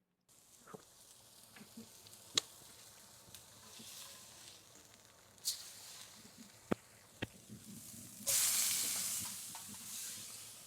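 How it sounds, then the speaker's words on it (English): Quiet frying sizzle of steak in a pan, punctuated by sharp clicks and taps, then a louder burst of hissing near the end. "Y'all hear that sizzle?"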